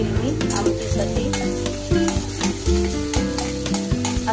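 Garlic fries in oil for aamti, a spiced lentil curry, with a steady crackling sizzle and stirring clatter that runs continuously under prominent background music tones.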